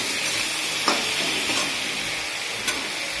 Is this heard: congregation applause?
no